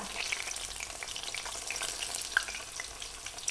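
Wild garlic leaves dipped in batter fry in hot oil, giving a steady, close, dense sizzle with fine crackles throughout and no voices.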